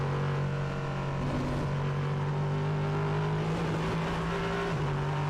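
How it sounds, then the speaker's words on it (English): A Duqueine prototype race car, the Molnar Motorsport number 21 Duqueine D08, roars steadily at the Hockenheimring circuit, a loud sustained engine drone that shifts pitch briefly as it runs, with no voices. "we listen to the roar of that wonderful engine"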